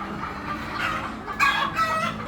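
Hens clucking in indoor breeding pens, several birds calling in bursts close by, with a louder cluster of clucks midway and steady pen noise underneath.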